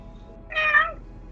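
A person imitates a cat, giving one short, strained meow of about half a second, close and fairly loud, during a tabletop fantasy role-playing game.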